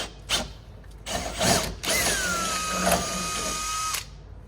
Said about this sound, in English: So we shall take the drill and we shall drill a hole.